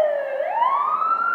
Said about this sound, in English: We got the ambulance out.